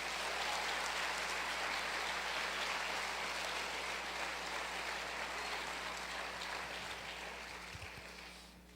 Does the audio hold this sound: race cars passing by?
no